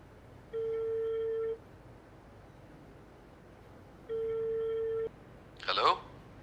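A telephone goes unanswered with two long, steady electronic rings separated by a few seconds of quiet, followed by a short burst of noise.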